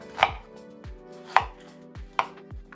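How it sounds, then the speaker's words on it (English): Four firm knife chops through an onion land on a cutting board at a slow, uneven pace, each a crisp close thud standing alone in a quiet kitchen. "And cut my onion."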